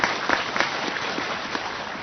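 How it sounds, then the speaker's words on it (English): Audience clapping during a Buddhist sutra teaching, a brief burst of scattered applause from a small indoor group, fairly faint and steady. "Why are you clapping?"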